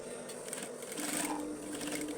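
A sewing machine stitches a small topstitch along the fold of a patch pocket, a steady close buzzing whir that holds for the whole short stretch with no voice over it.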